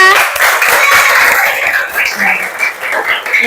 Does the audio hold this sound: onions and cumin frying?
no